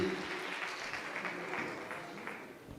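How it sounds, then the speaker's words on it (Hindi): A church congregation breaks into loud, sustained clapping after a healing testimony, a dense wash of many hands that holds steady and eases slightly toward the end. "जोरदार ताली बजाएंगे जी।"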